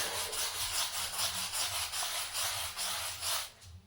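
Cloth rubbing pearlescent paint into a wooden shelf board, a soft steady scrubbing swish in repeated back-and-forth strokes, close and fairly quiet with no talk.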